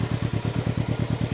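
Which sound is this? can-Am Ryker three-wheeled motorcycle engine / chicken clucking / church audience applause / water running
can-Am Ryker three-wheeled motorcycle engine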